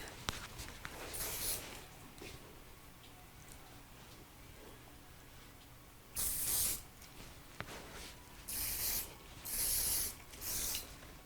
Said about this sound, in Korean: 스프레이를 살짝 뿌려주시면 돼요.